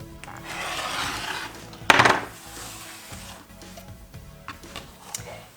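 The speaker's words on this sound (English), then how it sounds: "And now we trim them with my awesome super duper new ruler," A rotary cutter slices quilt blocks along a ruler, giving soft scraping rubs and one sharper cutting burst, close and fairly quiet with small handling knocks.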